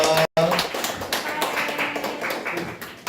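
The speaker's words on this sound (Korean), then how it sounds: "박수로 축하하겠습니다" A church youth congregation claps to celebrate a member's birthday during a worship service, a quick run of close claps with voices speaking over them.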